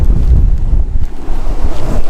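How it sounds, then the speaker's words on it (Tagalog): Strong wind buffets the microphone on a motorbike trail ridden on a Kawasaki KLX, a loud, continuous low roar with gusty swells and no talking. "Ang lakas ng hangin."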